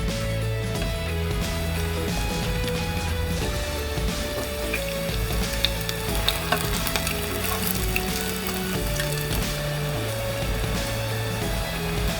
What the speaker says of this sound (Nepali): हिटलाई मिडियममा राखेर फ्राई गर्नुपर्छ।